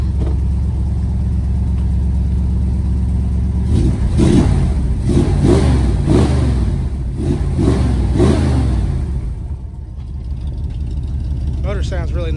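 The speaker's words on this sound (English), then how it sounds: "Motor sounds really nice." Small car engine, nearly warmed up, rumbling at idle and then revved in a series of short bursts before settling back to idle, close and fairly loud.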